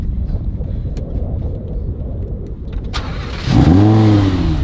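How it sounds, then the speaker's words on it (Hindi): A Lamborghini engine is started. Steady background rumble gives way to a sudden loud burst as the engine fires, followed by a rising, throaty rev close by. "थोड़ा हीरो की तरह अंदर बैठते और फिर इसे स्टार्ट करते हैं"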